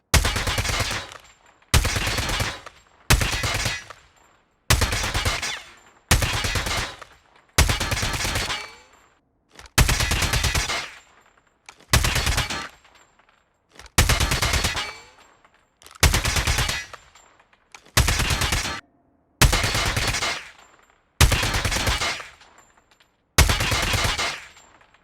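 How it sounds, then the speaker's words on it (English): Automatic gunfire in Call of Duty Mobile, about fourteen short sharp bursts spaced at regular intervals with silent gaps between them, loud and up front. "when you press fire button, then bullets will come out without waiting of scope opening animation"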